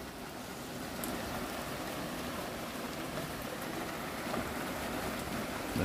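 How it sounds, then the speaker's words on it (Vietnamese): Heavy rain and strong wind in a mountain village in Hà Giang, Vietnam, make a steady, dense roar of rainfall and gusts that holds constant throughout with no voices. "Trời mưa và gió lớn quá"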